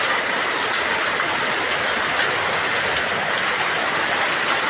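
Heavy rain mixed with hail pours down steadily, a dense loud hiss of drops striking surfaces without pause.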